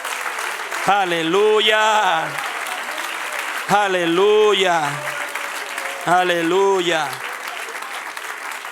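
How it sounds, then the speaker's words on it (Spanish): A church congregation claps during a sermon, a steady wash of applause running beneath a voice that calls out three times in long, sung exclamations. "Dele un aplauso al que reina."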